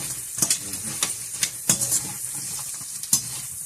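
Pork for Chinese braised pork is tossed in a hot frying pan, a steady sizzle broken by several sharp scrapes and clanks of the utensil against the pan.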